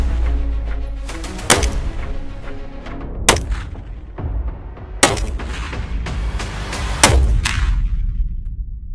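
A semi-automatic .308 PSA PA-10 rifle fires about five sharp, loud shots at irregular intervals, each crack followed by a short rolling echo, with no talking between them.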